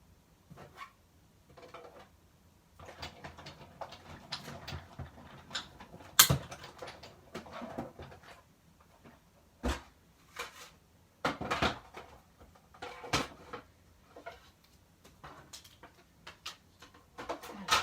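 A die-cutting machine working a paper circle for a Stampin' Up card gives scattered clicks, thumps and clunks of plates and handling, fairly close and irregular amid quiet.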